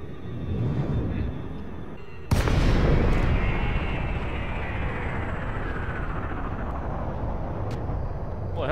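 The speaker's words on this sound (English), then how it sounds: "it looked like somebody was firing upon the station" A sudden loud blast and burst of weapons fire near a space station in the video game Elite Dangerous, followed by a long decaying roar and rumble that stays fairly loud to the end.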